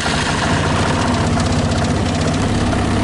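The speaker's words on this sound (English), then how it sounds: "I just hit the starter button." A UTV side-by-side engine idles close by with a steady, loud, rough rumble and a constant mechanical vibration throughout, with no voices.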